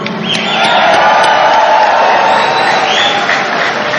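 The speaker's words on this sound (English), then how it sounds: "Let's give a round of applause for Eric Maroon." A large rally crowd at a 2016 Donald Trump campaign event in Houston, Texas applauds and cheers in a loud, dense, continuous roar that holds steady for several seconds.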